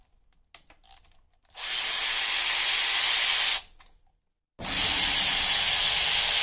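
Power tool, likely an impact driver or air tool, loosening bolts on a Suzuki LTZ400 quad engine, in two loud sustained bursts of about two seconds each, separated by a brief pause and quiet handling noises.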